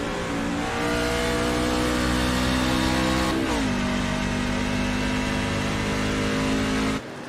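An onboard race truck engine at Nashville drones loudly at steady revs, then its pitch drops sharply as it shifts down gear, and continues roaring close by.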